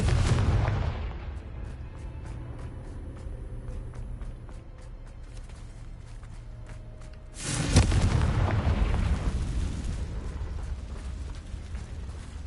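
The Confringo fire spell goes off in the Hogwarts Legacy video game. A rumbling game soundscape with light ticks and impacts builds to one booming, blasting burst partway through, followed by a long crackling roar that slowly fades.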